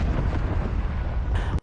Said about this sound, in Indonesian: Mayor Porter pun meledak bersama dengan para musuhnya.